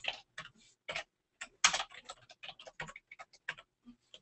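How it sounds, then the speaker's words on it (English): Typing on a computer keyboard: irregular bursts of close, crisp key clicks with short pauses between them, and no voices. "let me go through and type a few things out here"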